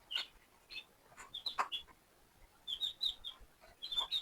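Newly arrived broiler chicks chirp in short, high-pitched peeps, scattered in quick irregular clusters, fairly faint and close, with a few calls overlapping.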